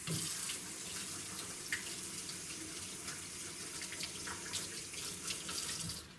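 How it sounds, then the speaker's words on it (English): Water runs steadily from a tap while a hand is rinsed under it in a kitchen, a soft continuous splashing hiss at close range with no voices. "I'm going to wash off my hand."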